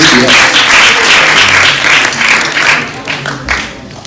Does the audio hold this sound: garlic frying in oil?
no